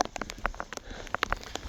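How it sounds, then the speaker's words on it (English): Rain falls onto a jacket outdoors in wet weather, with close, scattered drops tapping irregularly at a moderate level. No one speaks. "it's not been raining long"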